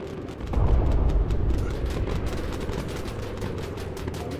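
Machine guns on a bomber in Bomber Crew fire a dense, rapid, continuous rattle with deep booming bursts, loud and sustained, with no talking over it.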